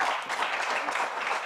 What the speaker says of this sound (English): So another round of applause for Shiko as well.